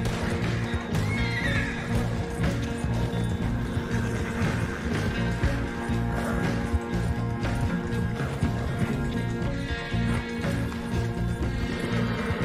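A horse in the video game Red Dead Online whinnies over steady galloping hoofbeats, with the clip-clop continuing loud and unbroken throughout.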